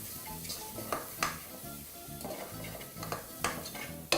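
Spices for a Malay chicken curry are stirred steadily in hot oil in a pan over low to medium heat, with a soft sizzle under regular scraping and occasional clinks of the spoon.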